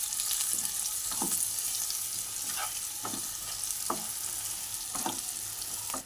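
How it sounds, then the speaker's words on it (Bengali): Turmeric being stirred into a frying masala for a lote fish kofta curry, a loud continuous sizzle broken by regular scraping strokes of a spatula roughly every second, no voices. "দিচ্ছি হলুদ, দিয়ে ভালো করে নাড়িয়ে নেব।"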